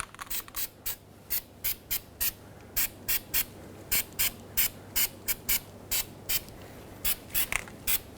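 Rapid bursts of aerosol anti-corrosive coating spray onto brake parts of a Volvo S60, hissing in short, repeated pulses, each a quick blast close to the microphone, with brief pauses between them.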